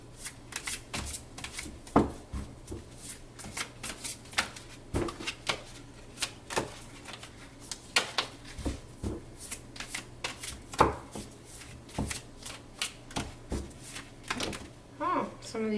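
Tarot cards being shuffled in a steady run of crisp riffles and slaps, close up and fairly quiet over a low steady hum, with a few cards flying loose near the end.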